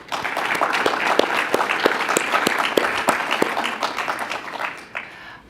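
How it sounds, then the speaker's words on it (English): A business talk audience gives a thank-you round of applause, steady dense clapping mixed with a few sharper individual claps, sustained at even loudness and fading out at the end. "I think we owe him a big round of applause."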